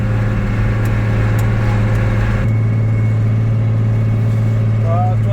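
A farm tractor pulling a seed drill while sowing field beans revs up. The engine drone runs loud and steady, its pitch shifts partway through, and a voice speaks over it.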